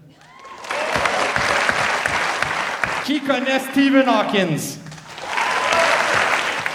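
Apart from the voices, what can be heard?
audience applause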